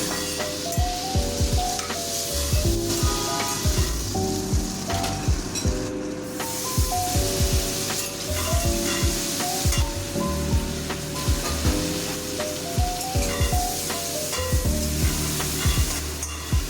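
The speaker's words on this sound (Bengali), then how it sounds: "তেলটা গরম হয়ে গেলে আগে থেকে ধুয়ে রাখা নুন হলুদ মাখানো চিংড়ি মাছগুলো দিয়ে দিলাম।" Prawns rubbed with salt and turmeric fry in hot oil in a kadai, giving a steady loud sizzle broken by repeated scraping stirs and crackling spatters, with no voices.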